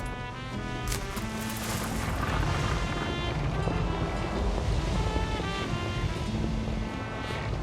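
Waves and wind wash steadily around a sailing ship getting under way in Anno 1800, a continuous broad surf-like roar with a faint tonal music bed underneath and no talking.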